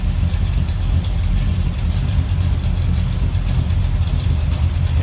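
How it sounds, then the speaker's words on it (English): A 1980 Pontiac Trans Am Indy pace car replica with a cammed 400 engine idles steadily, its deep lopey rumble loud and close throughout with no talking. "Sounds like you got a little cam to it. A little rumble coming out of that 400."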